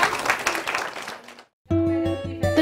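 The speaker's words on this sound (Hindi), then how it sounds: "शाबाश, विमला के लिए तालियां हो जाए।" A group claps for Vimala, newly chosen as the women's leader at a village sanitation meeting. The broad applause lasts about a second and a half, then cuts to silence before a tonal musical passage begins.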